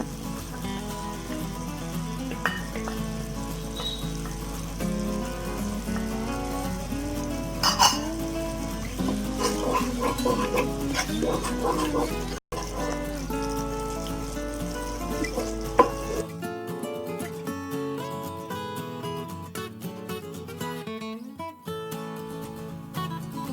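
Thick red chilli sauce with sugar and tomato sauce bubbles and sizzles steadily in a pan, a continuous crackling simmer with occasional soft pops.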